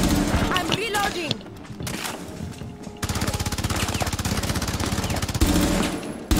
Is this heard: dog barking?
no